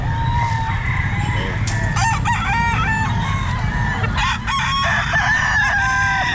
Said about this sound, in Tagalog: Ayan mga manok niya.